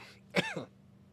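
One short, close cough, a quick throat-clearing burst from a person sitting at a computer, then quiet room tone.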